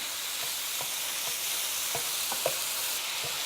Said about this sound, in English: You need to break up the meat in the pan and seal it off again.